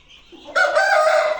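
A hen lets out a sudden, loud, drawn-out clucking call at close range after a brief quiet murmur.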